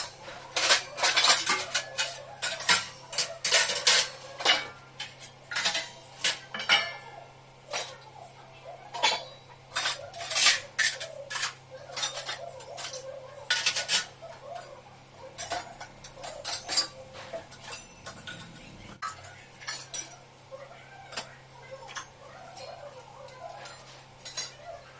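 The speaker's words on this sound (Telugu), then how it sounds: "ఇక్కడ గిన్నెలు కడిగేసినవి ఉన్నాయి" Clean washed dishes, pots and cutlery being put away in a home kitchen during Diwali preparations, with repeated clinks and clatters of metal and crockery coming in quick bursts, close and fairly loud, with no talk.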